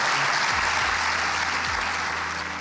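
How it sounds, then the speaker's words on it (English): An audience claps steadily throughout at a talk on helping players think well, a dense even wash of applause from a crowd that stays loud and fades only slightly at the end. "Applause, please."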